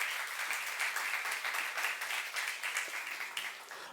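A church congregation applauds as one, a dense, steady wash of many hands clapping that fills the room at close range without a break for the whole stretch, with no voices standing out.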